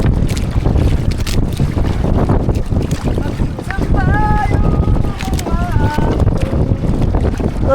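Wind gusts and waves slap around a small boat at sea, with a loud, continuous rush and rumble close to the microphone while people talk over it.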